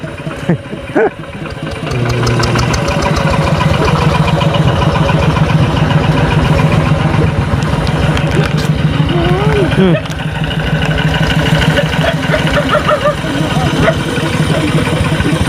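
A diesel tractor engine idles steadily and loudly up close with a chugging rumble, while people talk over it.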